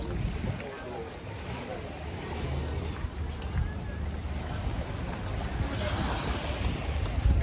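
Small boat engine with a primitive direct-drive propeller shaft, tube within a tube, no air filter or exhaust, running with a steady low rumble mixed with water and wind noise, continuous and fairly close.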